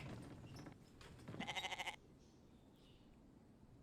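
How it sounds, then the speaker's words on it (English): A video game goat bleats in a short wavering burst over a steady background hum, then the scene settles into quieter ambient noise. "There's a goat just hanging out there as well."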